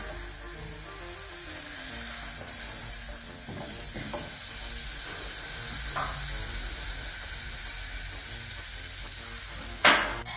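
Butter melts in a hot pan, giving a steady soft sizzle and hiss throughout, with a few light stirring clicks and a sharper tap near the end.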